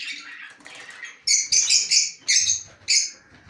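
Pet budgerigars in an aviary give a run of bright, close chirps and twitters, with several loud bursts coming in quick succession over a softer chattering background.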